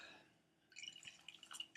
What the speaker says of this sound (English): let's pour a little more bubbly before we go